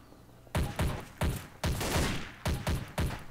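Gunfire in Garry's Mod Trouble in Terrorist Town: a series of sharp, loud shots fired in uneven bursts, some single and some paired, each cracking out and decaying quickly.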